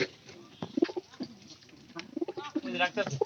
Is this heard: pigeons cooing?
yes